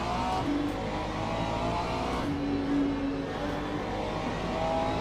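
A prototype LMP2 race car in the Le Mans Ultimate racing game drones steadily under load, a continuous loud engine note with slight pitch shifts and no talk over it.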